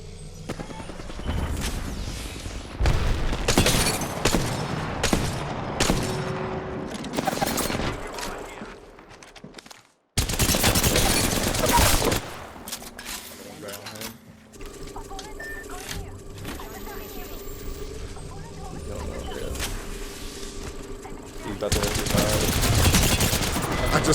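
Apex Legends gunfire in bursts of rapid automatic shots, close and loud, with a brief silent gap partway through and game sounds in between.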